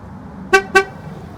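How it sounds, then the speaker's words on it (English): A 2017-2019 Chevy Cruze horn gives two short, close, loud toots in quick succession as the tire pressure sensors are relearned. "you heard a honk and then 2 small honks after"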